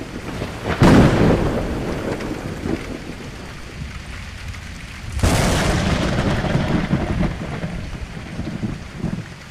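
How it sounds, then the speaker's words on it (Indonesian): Thunder rumbles through a rainy thunderstorm, two heavy cracking rolls that swell and fade over a steady wash of rain and wind, loud and enveloping. "rentetan petir terjadi lagi"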